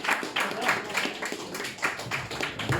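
Audience at a stand-up comedy gig clapping in scattered, uneven bursts, moderately loud with some voices mixed in.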